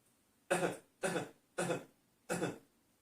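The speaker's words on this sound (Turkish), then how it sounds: "öksüreyim mi?" Four distinct coughs spaced about half a second apart, close and fairly loud, each a short harsh burst followed by silence.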